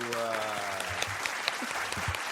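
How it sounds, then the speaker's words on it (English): A live audience claps warmly for a guest, a Boston mayoral candidate, on a talk podcast. The applause is a steady, close wash, and someone speaks over it. "Everybody give a round of applause for my man, Josh Kraft, man."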